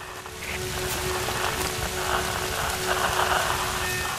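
Steady rain falls in Tomb Raider: Definitive Edition, a continuous hiss of drops on surfaces that holds evenly throughout with no voices.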